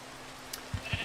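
Two short sheep bleats from a Minecraft sheep farm follow one another in quick succession, faint over a quiet background.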